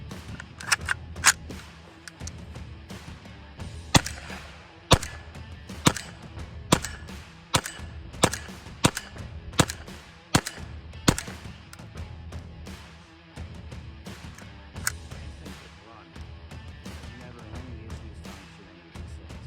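Semi-automatic M49/57 and PPs43 rifles test-fired at an outdoor range: a string of sharp, evenly spaced gunshots about half a second apart, then a few scattered later reports.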